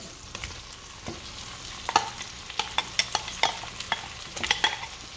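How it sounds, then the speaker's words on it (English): Bologna frying in a pan, with sizzling under a series of sharp scraping and stirring clacks. "I'm gonna be putting in the bologna now"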